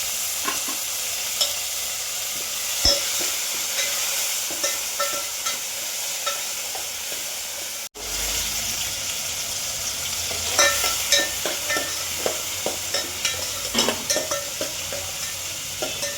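Masoor dal with green chillies roasting in a pan, a steady bright sizzle and frying hiss throughout, with scattered stirring scrapes and clicks of a utensil, one brief break midway.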